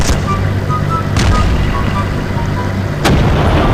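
Battlefield 1 combat gameplay fills the air with loud, continuous rumbling battle noise, with heavy artillery-like booms landing around 1.2 and 3.1 seconds.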